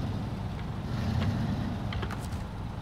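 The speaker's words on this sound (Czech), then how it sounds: "Tak, vypne motor." A truck engine in SnowRunner idles steadily at close range with a low rumbling drone, running continuously with no pause or cutoff.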